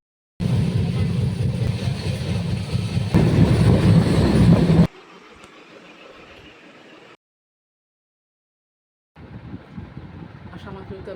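A passenger train travelling on rails from Kolkata gives a loud, close rumble for about five seconds, drops to a quieter steady roll, falls silent briefly, then the running noise returns at a moderate level.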